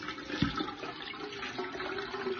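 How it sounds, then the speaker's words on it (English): Water runs steadily into a cooking pot for okpa, the Nigerian Bambara-seed dish, making a continuous close splashing rush with one brief clunk early on. "First, add water to the cooking pot."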